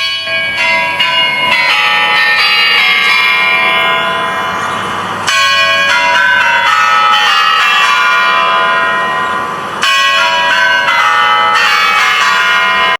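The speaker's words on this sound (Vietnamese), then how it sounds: "mọi người cũng sẽ nghe được 12 tiếng chuông đó của đồng hồ" Kremlin clock tower bells chiming over Red Square in Moscow, a loud, continuous ringing of layered bell tones with fresh strikes restarting the resonance around 5 and 10 seconds, no talk.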